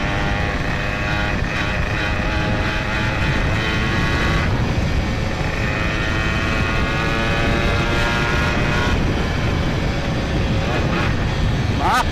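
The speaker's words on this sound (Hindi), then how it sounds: "आवाज सुन रहे हैं आप लोग, आवाज लेजेंडरी बाइक।" A Yamaha RX100 motorcycle engine roars steadily and close by throughout, a loud continuous drone with rising and falling pitch as it rides.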